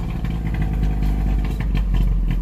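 A Subaru 360 microcar's two-stroke motor runs steadily, a loud, continuous clattery putter with uneven popping pulses and a brief rev toward the end, heard up close with no talking.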